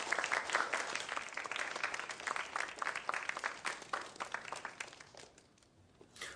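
Audience clapping for the last contestant to come up, brisk at first and then thinning into scattered claps before fading out near the end.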